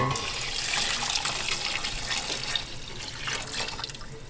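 Hot water pours steadily into a pot of beans, a continuous close splashing gush that runs the whole time with small surges and no voices.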